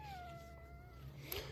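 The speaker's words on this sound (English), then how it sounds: "Hey, mister, you have the cutest little meow." A Savannah cat gives one drawn-out, falling meow, close and fairly soft, over a low steady background hum.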